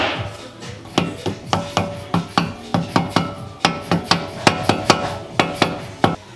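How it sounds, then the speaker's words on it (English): A mallet smacks a car wheel hub into place on an E36 being prepared for a drift event: about twenty sharp, ringing blows in a steady, fairly quick rhythm, close and loud. "A huge amount of smacks with the mallet."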